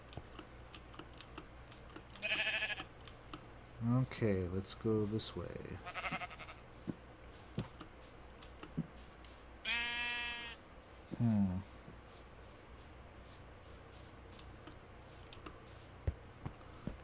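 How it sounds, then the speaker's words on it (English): Sheep in the Minecraft video game bleat several times in short, wavering calls, spaced apart, while a player talks quietly over clicking keys. "There's some sheep, and there's that sound again."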